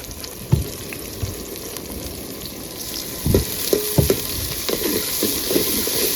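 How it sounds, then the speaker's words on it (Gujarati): Chopped onion hits hot oil in a pan, setting off a close, steady crackling sizzle punctuated by thumps and scraping stirs, with no talking. "ફાઇનલી તેલ ગરમ થઈ ગયો. નાખી દઈએ આપણે ડુંગળી."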